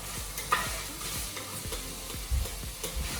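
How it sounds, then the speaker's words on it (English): Chickpeas sizzle while frying in a Dutch oven, a close, steady hiss with soft stirring scrapes and bumps of the pot. "I don't know if you could hear that nice sizzle."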